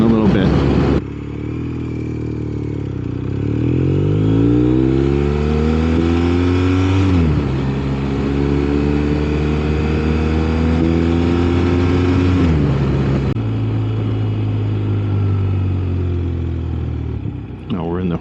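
A BMW R 1250 RS sport-touring motorcycle is heard while riding, its engine droning loud and close, rising in pitch through the gears with clear shifts, while a voice talks over it.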